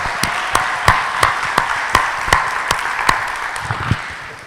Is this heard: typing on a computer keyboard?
no